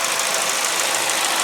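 A 2003 Ford Focus SE engine running in an open engine bay, a steady close hiss-heavy idle with constant level and no talking over it.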